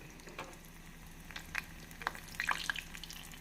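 Vegetable cutlets coated in maida and breadcrumbs frying in oil in a kadai, a quiet steady sizzle with scattered crackles and pops that grow busier toward the end, no talk.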